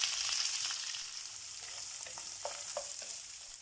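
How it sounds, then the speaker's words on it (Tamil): Long-cut onions, mustard seeds and dals fry in hot oil for a potato palya side dish, giving a steady close sizzle with a few light clicks of stirring. "நம்ம கட் பண்ணி வச்சுருக்கு ஆனியன்ஸ் போட்டுக்கலாம்."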